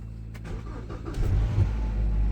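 Haval H6 engine starting after three weeks parked at -19°C: a brief cranking whir catches into a low, rough idle that rises and settles into a steady rumble, close and loud, without talk.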